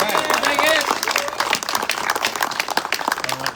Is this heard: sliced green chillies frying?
no